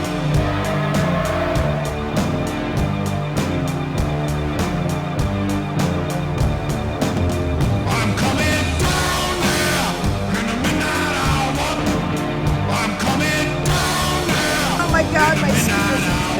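A recorded song plays through poor-quality speakers, a dense, continuous mix of music at steady loudness throughout, with no break.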